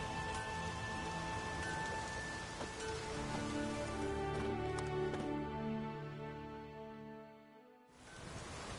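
Steady rain falls in the video game The Witcher 3, a dense, even patter across the whole stretch with a soft low rumble and some background music-like tones, cutting out briefly near the end before resuming.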